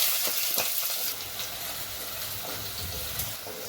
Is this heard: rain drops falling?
no